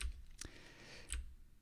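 Two or three quiet clicks of computer keys being typed by hand, sparse and close, with soft room background between the taps and no speech.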